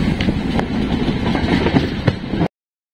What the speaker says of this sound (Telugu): నెక్స్ట్ స్టాప్ అయిన కోడూరు ప్లాట్ఫామ్ మీదకైతే ఎంటర్ అవుతుంది ట్రైన్